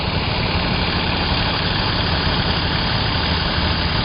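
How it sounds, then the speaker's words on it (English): Diesel pumps running during flood and fuel cleanup work in Norway House, Manitoba, giving a steady, loud, continuous low engine drone with no breaks. "We're setting up the diesel pumps."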